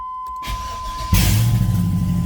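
A car engine cranks and fires up after a new 57 PSI fuel pressure regulator is fitted, a brief starter whir giving way to a sudden catch and a steady, close idle rumble that holds loud to the end.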